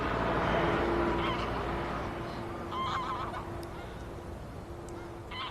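Wild geese honking near a reedy lakeshore at Lake Neusiedl, with a few scattered calls rising from a steady outdoor rumble of wind and distant noise; no talking.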